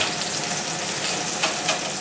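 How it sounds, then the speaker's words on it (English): Steady, close sizzling of capsicum frying in a pan, a dense hiss throughout with a couple of brief brighter crackles. "what I'm doing is I'm just frying that up"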